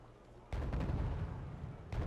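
French artillery in the Wargame: European Escalation war game, firing GPS-guided rounds, lands in heavy booming blasts that roll on for over a second, then a fresh impact hits near the end.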